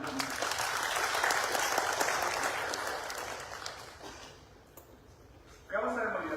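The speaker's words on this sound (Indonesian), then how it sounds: "Tepuk tangan buat beliau." Crowd applause at a ceremony installing the Badung regency KONI sports committee board, a loud sustained clatter of many hands that gradually fades, followed by someone speaking over a PA.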